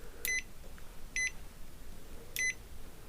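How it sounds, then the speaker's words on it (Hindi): Touch screen multimeter in buzzer mode testing an LED, giving three short, sharp electronic beeps spaced about a second apart, clear against a quiet background. "अगर इसे हम बजर की रेंज में चेक करें एलईडी को, हो सकता है ये दिखाए।"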